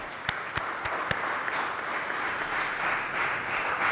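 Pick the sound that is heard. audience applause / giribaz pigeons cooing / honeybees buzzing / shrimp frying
audience applause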